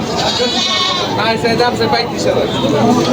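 Goats bleat repeatedly amid a noisy crowd at a goat market in Gazipur, Bangladesh, with people talking close by throughout.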